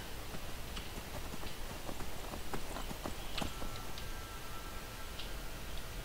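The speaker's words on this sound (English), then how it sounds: "now I shall ride my horse" Horse hooves clip-clopping as a rider travels in the video game Skyrim, a steady, moderately quiet patter of hoofbeats over a faint background bed.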